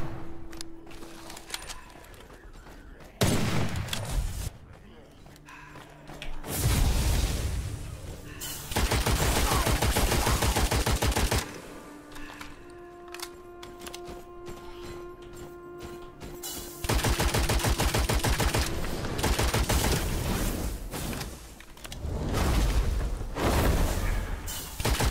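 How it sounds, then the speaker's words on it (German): Repeated sniper rifle shots and bursts of gunfire in the dark fantasy shooter game Witchfire, loud sharp cracks coming in clusters with brief pauses between them, alongside other combat effects. "Ich liebe einfach diese Sniper."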